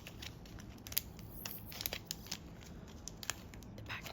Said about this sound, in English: The packaging does tear open very neatly and nicely